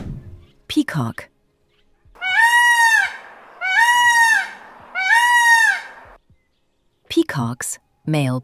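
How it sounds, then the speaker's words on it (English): A peacock gives three loud, drawn-out honking wails, evenly spaced and close by. Brief bits of speech come before and after the calls. "Peacock."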